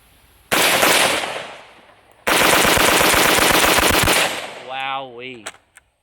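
A Zastava M90 rifle that has fired about 7000 rounds, shown in two loud rapid bursts of automatic fire. Each burst is followed by echoing reverberation, and a brief whistle-like sweep sounds near the end.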